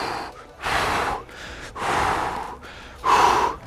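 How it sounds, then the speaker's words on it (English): Heavy rhythmic breathing during a light-weight functional training set, loud and close, with long forceful exhales and sharp inhales timed to each repetition and no talking. "If you're listening to my breathing, I'm kind of matching the cadence of the actual exercise."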